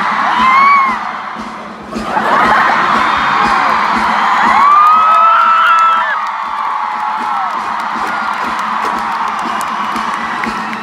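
A large concert crowd at a Bandito Tour show shouts and cheers together in a loud, sustained roar that swells early and then stays at a steady, dense level.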